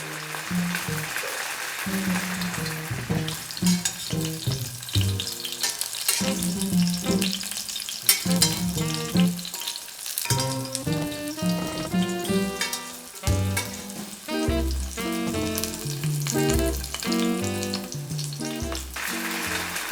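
Tofu deep-frying in hot oil for agedashi tofu, a loud, steady sizzle and crackle that continues throughout, with no talking.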